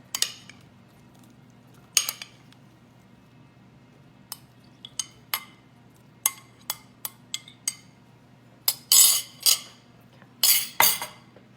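Blueberries being folded into muffin batter in a bowl: a quiet room with scattered clinks and taps of a utensil against the bowl, coming in uneven bursts that grow busier toward the end, close by.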